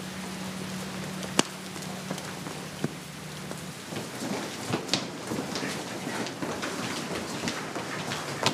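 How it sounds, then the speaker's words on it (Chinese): Heavy rain falling at night during a downpour, a dense steady patter on surfaces with a low hum early on and occasional sharper drops. "在大雨当中"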